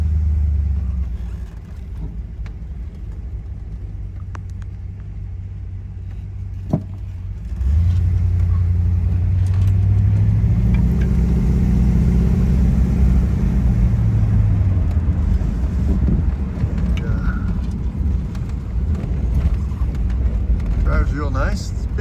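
A 1960 Chrysler 300F convertible drives along with a steady low engine rumble, quieter at first and then fuller and louder as it gets under way, continuing close by throughout.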